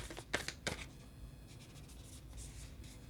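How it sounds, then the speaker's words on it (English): Tarot cards shuffled by hand in a quiet room, a few sharp riffling bursts early on followed by softer, steady rustling and sliding of the deck, close and alone. "And we're going to shuffle."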